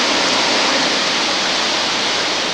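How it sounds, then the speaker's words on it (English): Hurricane Isabel's wind and storm surge roar in a dense, unbroken wash of noise, loud and close, with no voices or breaks in 2003. "Well, this is Hurricane Isabel."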